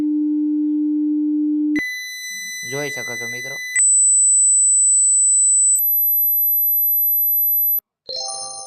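A mobile phone speaker plays a sound test: steady pure tones that step upward in pitch in stages, loud and clean, with a brief burst of talk over one tone and a few short beeps at the end.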